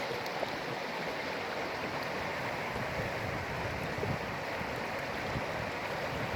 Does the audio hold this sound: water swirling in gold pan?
yes